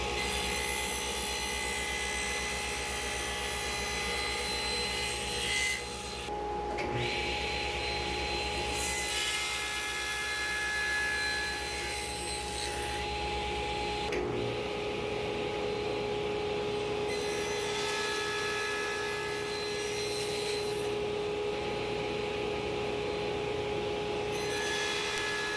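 A table saw fitted with a spline jig cuts slots into a nearly finished wooden piece, a loud continuous whine and rasp that swells and dips as the blade bites through the wood in several passes, with no talking.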